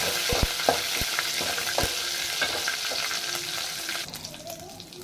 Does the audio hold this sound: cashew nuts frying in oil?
yes